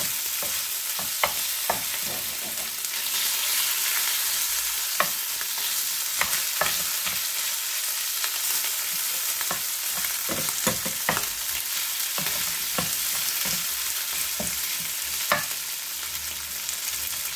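Shrimp fry steadily in a hot pan with a continuous sizzle, broken by repeated sharp clicks and scrapes of a utensil stirring against the pan, with no one talking.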